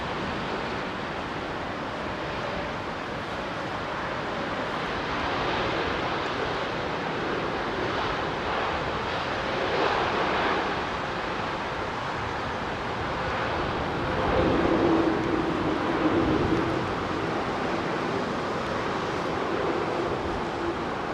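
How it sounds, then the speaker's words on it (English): A Boeing 787 Dreamliner jet making a low departure from Heathrow runway 09L, a broad steady roar that swells and lingers for about twenty seconds, heard from outside and mixed with wind rush. "Another low departure with the Dreamliner."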